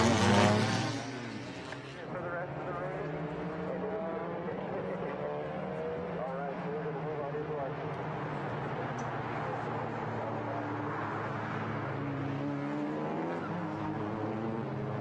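Several TCR/TCA touring race cars fire up their engines at the Rose Cup Races, a dense sustained rumble of idling motors with a louder burst at the start, under a commentator's voice.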